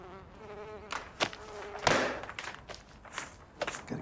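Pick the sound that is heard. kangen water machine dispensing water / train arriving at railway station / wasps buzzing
wasps buzzing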